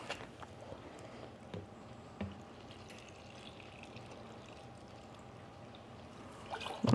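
Vinegar for pickle brine is poured into a measuring cup, a quiet, steady trickle and splash with a few soft knocks, ending in a louder clatter.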